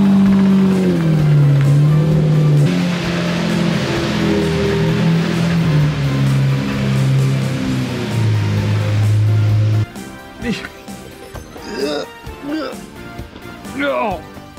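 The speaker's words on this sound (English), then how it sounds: "That would be the clutch slipping." 2006 Lamborghini Murcielago Roadster with a slipping clutch under throttle in top gear on a highway, engine revs climbing and flaring in a loud droning whine that cuts off after about ten seconds, followed by people talking.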